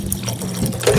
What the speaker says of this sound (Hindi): पानी मज़ीद ऐड कर लेंगे।